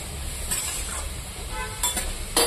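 Turmeric is stirred into vegetables in a pan, making soft scrapes and a faint sizzle. Quiet, close, irregular strokes of the spoon stand out against a low background hiss.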